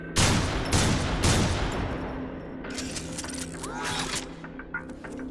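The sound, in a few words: Neutron Assault Rifle firing in Transformers: War for Cybertron video game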